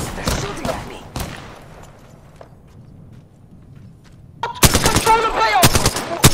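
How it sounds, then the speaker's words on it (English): Apex Legends gunfire comes as a few sharp shots early, then a loud, rapid burst of close automatic fire near the end, with game voice lines in between. "They're shooting at me."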